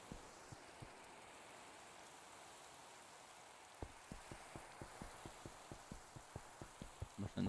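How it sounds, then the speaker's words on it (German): Steady soft rain hisses throughout in Minecraft, with a run of evenly spaced light taps building toward the end. "es regnet."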